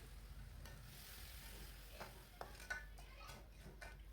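Ayam kecap seasoning stirred in a pan, with quiet sizzling and scraping of a utensil against metal, then light clinks as a splash of water goes in, all faint and close.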